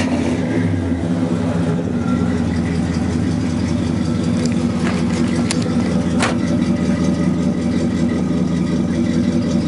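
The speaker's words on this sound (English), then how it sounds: "Rev it up a little bit." The 400 V8 in a 1967 Oldsmobile 442 convertible with a four-speed idles with a loud, steady, throaty rumble close by, revving gently and settling back with no voices.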